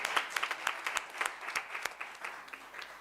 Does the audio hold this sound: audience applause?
yes